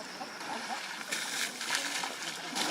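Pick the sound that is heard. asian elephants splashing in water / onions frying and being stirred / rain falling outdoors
asian elephants splashing in water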